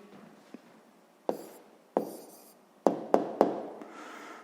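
Pen or pencil writing on paper while a maths answer is recorded, a few soft scratches followed by several sharper taps and strokes, close and quiet with no talking.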